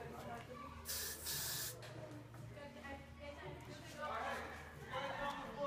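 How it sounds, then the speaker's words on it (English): Two short hissing bursts of an aerosol spray, close by, with a person talking quietly underneath throughout. "push it up, and then spray it so you can see it above the bow"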